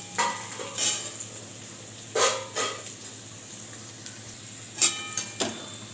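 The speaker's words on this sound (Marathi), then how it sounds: "मस्त बटाटा आणि मिरची फ्राय झालेली" Potatoes and green chillies frying in oil in a pan, a low steady sizzle beneath intermittent scrapes and clinks of a stirring spoon against the pan.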